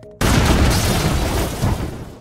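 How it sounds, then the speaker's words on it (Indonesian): A bomb planted at a farm in a Jackie Chan action film explodes: a sudden, very loud, close boom erupts after brief quiet and roars on as a sustained rumbling blast. "hingga bom itu pun meledak"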